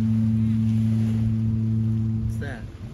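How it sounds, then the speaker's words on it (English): A ship's horn sounds at sunset over Subic Bay, a deep steady tone holding loud and unbroken for over two seconds before cutting off, leaving faint ambient noise. "It's like a boat horn, huh? Fog horn."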